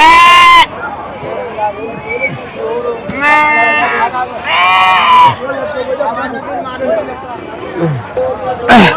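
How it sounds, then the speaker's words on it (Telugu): Young rams and lambs at the Gudur sheep market, bleating loudly and repeatedly, close and overlapping, with several rising calls and steady crowd chatter underneath. "మూడున్నర నెల నాలుగు నెలల మధ్యలో పొట్టేలు పిల్లలు"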